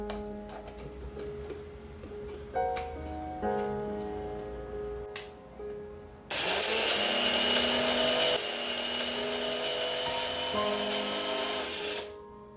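Mixer grinder grinding dried coriander, mint and curry leaves into powder: a loud, steady whirring motor starts abruptly midway and runs for several seconds before stopping, preceded by quieter kitchen clatter and background music.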